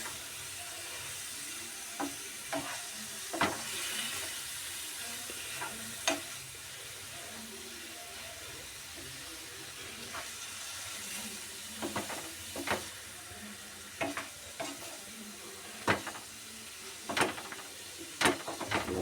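Tuna pieces frying with spice paste in a pan for a fish curry, a quiet continuous sizzle broken by scattered sharp clicks and scrapes of stirring, close up and with no talking.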